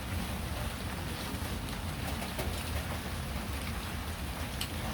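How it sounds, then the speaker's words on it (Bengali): Heavy daytime rain falls steadily in a village during the monsoon season, a dense, continuous hiss that stays at an even level throughout, with a low rumble beneath it. "এত বৃষ্টি ভালো না করে ভাই রে সারাটা দিন যদি এরকম বৃষ্টি থাকে তাহলে বিপদ"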